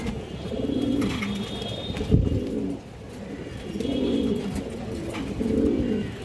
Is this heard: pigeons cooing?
yes